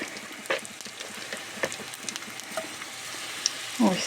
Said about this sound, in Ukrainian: викладаємо наші котлетки у пательню обережно